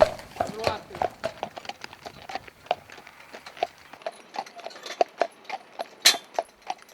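Horse hooves clop at a steady walking pace across a vineyard while the horse works the vines, the hoofbeats close, crisp and irregularly spaced, with a few faint voices in the background.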